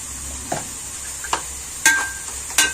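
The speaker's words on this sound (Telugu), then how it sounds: "ఇప్పుడు మనకు ఉల్లిపాయ టమాటా ఫ్రై అవుతుంది" Onion and tomato frying in a pan for a cabbage fry give a steady hiss, broken by a few sharp spoon scrapes and clinks against the pan.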